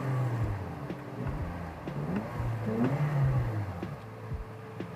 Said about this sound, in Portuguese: e dê uma aceleradinha